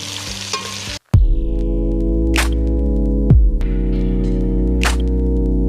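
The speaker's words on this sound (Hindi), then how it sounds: "माशाल्लाह से ना गोश्त हमारा फ्राई हो चुका है" Beef and chopped green chilies frying in a pot give a loud hiss at first, then a steady sizzle under a strong, constant electrical hum, with a couple of brief hissing bursts as the pot is stirred.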